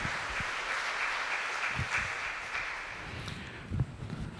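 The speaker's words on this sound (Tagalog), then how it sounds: "Palakpakan natin ang ating Panginoon." Worshippers at a Sunday Mass applaud together in a church, a sustained patter of many hands with a few sharper claps standing out near the end as it gradually thins.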